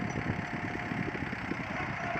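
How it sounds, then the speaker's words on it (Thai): A Kubota tractor fitted with a cassava lifting attachment runs with a steady, close engine drone and constant rumble, no voices over it. "โดยใช้รถไถโคบูต้า ติด เครื่องยกค่ะ"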